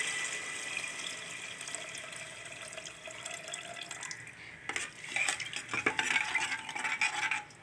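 Little millet soaking water is poured into a pan of sautéed coriander leaves, a soft running splash with light clinks of metal utensils that grows louder toward the end.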